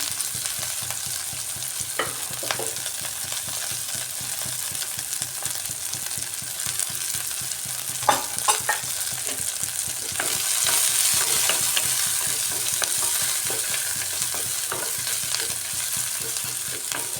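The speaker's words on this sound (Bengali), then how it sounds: "এটাকে একটু ভাজা ভাজা করে নিতে হবে তেলের মধ্যে।" Whole garlic cloves fry in oil alongside chopped ginger for an egg curry, giving a steady near sizzle with intermittent stirring scrapes and occasional knocks, and the hiss swells briefly partway through. No one speaks.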